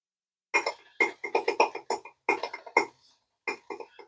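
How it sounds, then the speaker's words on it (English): A damp Omega boar-bristle brush is swirled over Proraso green shaving soap, making a close series of short, wet squelching bursts in quick groups, separated by brief silent pauses. "we take our brush that's damp, and we go round and round, creating a nice lather."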